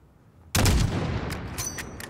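A single loud rifle shot cracks out abruptly in Call of Duty: Modern Warfare (2019) at roughly 400 meters toward a rooftop, followed by a rumbling echo and sharp metallic clicks as the report fades.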